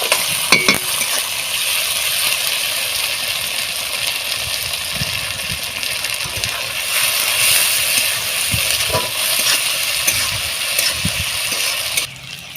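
Onion and tomato fry in oil in a pan with ginger and garlic for a koi fish curry. A steady sizzle is broken by occasional stirring scrapes and clinks, and there is no talk.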